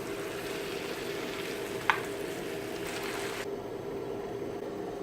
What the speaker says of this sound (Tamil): இப்போ சிக்கன் போட்டுக்கலாம். நல்லா பெரட்டி விடலாம்.